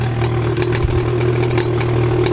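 BMW 335i with the N55 engine idling just after startup, a steady close low hum with a faint ticking clatter above it and no talk.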